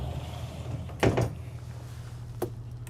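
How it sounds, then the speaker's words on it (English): A pocket door in a 2025 Renegade Verona 40VRB motorhome slides shut with a short rolling scrape followed by a soft knock, then a faint click a moment later, against a low hum. "We also have pocket door to close off the bedroom."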